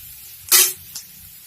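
Mung dal with salt roasting in a pan gives a brief sizzling hiss that swells and fades in about a quarter second. A fainter short sizzle follows, with quiet background between.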